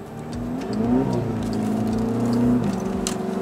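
A Volkswagen Scirocco 2.0 TSI accelerates on the road, its mid-pitched engine note climbing and shifting steadily as revs rise, loud and close from inside the car, with no voices.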